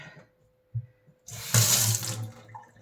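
Water running and splashing from a spout whose top may not be screwed on fully, a loud steady stream starting after a brief quiet stretch with a faint hum and a couple of small knocks.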